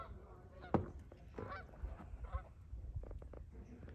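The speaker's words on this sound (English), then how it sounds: "That pretty bunch of geese coming in." Geese honk in scattered calls as a bunch of them comes in to land, wings cupped, during a snowstorm, with moderate outdoor background noise and no talking.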